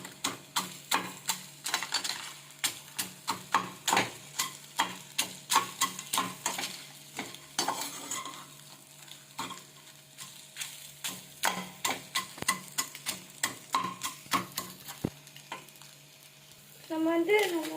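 Chicken frying in a pan with masala is stirred steadily, the spoon scraping and tapping in quick rhythmic strokes over a soft sizzle. A louder burst of sizzling swells at the end.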